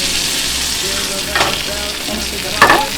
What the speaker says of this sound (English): Hear that baby sizzle.